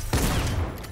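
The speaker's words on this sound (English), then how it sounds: "I love the shotgun." A single loud shotgun blast in Fortnite, a sharp close boom with a short rumbling tail.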